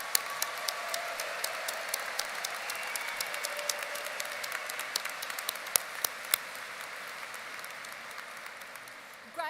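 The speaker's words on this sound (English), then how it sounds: "let's have a big hand of applause for the graduates" Audience applause for graduates at a university commencement ceremony fills the hall, a broad sustained patter of many hands with scattered sharper claps, heard at moderate distance and fading slightly toward the end.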